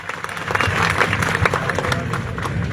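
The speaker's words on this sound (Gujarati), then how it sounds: "એમને આપણે જોરદાર તાળીઓથી બતાવશું" Farmers at a fasting protest in Jetpar, Morbi, clap together in a steady crowd applause, dense and moderately loud throughout, with scattered shouts and crowd noise mixed in.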